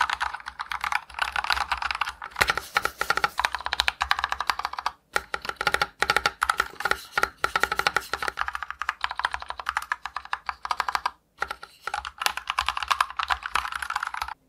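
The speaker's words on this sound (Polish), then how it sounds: "I tak brzmi klawiatura na przełącznikach Kale." Genesis mechanical keyboard with tactile Kailh switches typed on continuously, a close, rapid clatter of keystrokes with brief pauses and no voices.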